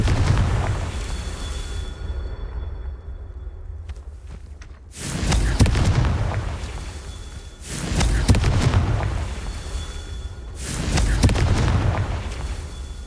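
Confringo fire spell blasts in Hogwarts Legacy, four loud booming explosions that each burst out and roll off over about two seconds, spaced evenly, with crackling ambience between them.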